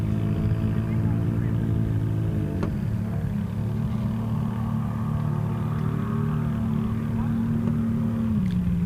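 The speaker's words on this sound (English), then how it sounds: "we continue to hear awesome engine noises off in the distance" Engines of desert race vehicles, including side-by-sides, drone in the distance at the Finke Desert Race, a steady low rumble with a gradual pitch shift partway through and no talk over it.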